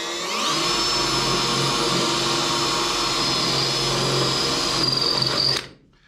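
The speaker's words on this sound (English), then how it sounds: "So we'll try the drill bit first." A large bit in a power drill bores out spot welds on the rusted steel step and rocker area of a 1955-1959 Chevy/GMC truck, a steady loud whine that runs for about five seconds and then cuts off.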